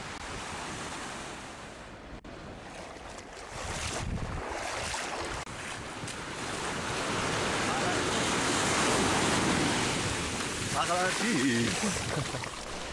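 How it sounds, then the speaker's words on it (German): Surf rolls onto a tropical beach at Ngapali, Myanmar, a continuous wash of breaking waves that swells and fades, mixed with wind buffeting the microphone. "Das Wasser ist angenehm warm und die Wellen sind nur in Strandnähe ab und zu etwas höher."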